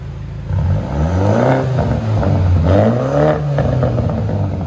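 A straight-piped 2017 BMW 430i with its muffler cut off, revving hard: the engine climbs and falls in repeated loud blips, with a raspy exhaust note held close and steady throughout.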